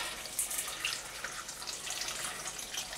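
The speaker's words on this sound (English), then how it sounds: "I always put the hot water in" Hot water runs from a kitchen tap into a cooking pot, a steady hissing stream that stays even and fairly quiet throughout.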